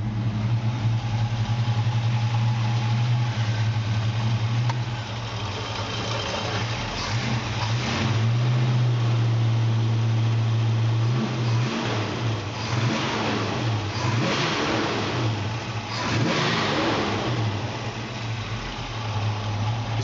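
A 1956 Chevrolet pickup's engine idles with a steady low rumble, then rises in a few revs before settling back, heard close and alone throughout.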